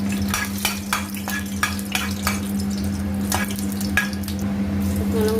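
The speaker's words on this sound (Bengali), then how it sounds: "দিয়ে দিলাম 2টো শুকনো লঙ্কা।" Two dried red chillies fry in hot oil in a pan, a steady sizzle broken by a series of sharp stirring scrapes roughly every half second, under a constant low hum.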